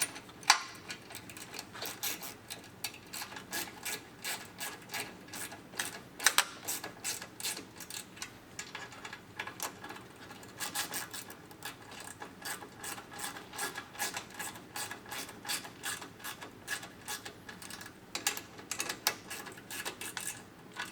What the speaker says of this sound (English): take our 4mm and our 10mm wrench